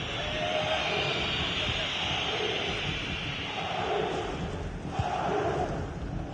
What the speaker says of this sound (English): the crowd are doing their bit